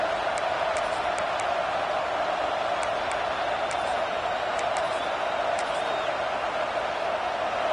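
A football stadium crowd at a game against Notre Dame keeps up a continuous, broad roar of cheering, with short sharp whistles or shouts popping out above the wash of noise.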